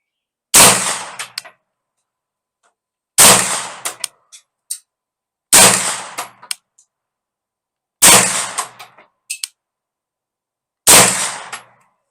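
Five loud, sharp gunshots from a carbine firing 9mm ammunition at a target 25 yards away, spaced a couple of seconds apart at an outdoor range, each followed by a short metallic clink and echo.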